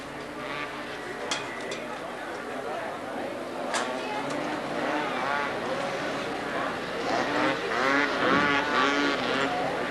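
Off-road vehicle race engines at a 1986 Washington ORV national event, buzzing and whining steadily at a distance beneath continuous race commentary.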